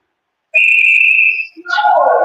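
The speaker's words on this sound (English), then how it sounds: "And the play's whistled dead." A referee's whistle shrills loudly at an ice hockey game, one sustained blast lasting about a second, followed by a voice speaking over arena noise.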